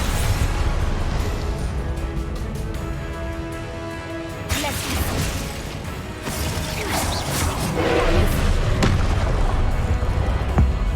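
Confringo fire spell explosions in the Hogwarts Legacy video game during a boss fight: a series of booming blasts and crashes over a droning game soundtrack, with someone talking faintly between them.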